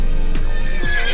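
Radar, a Belgian draft horse, lets out a loud, close whinny with wavering, descending pitch, one sustained neigh filling the moment.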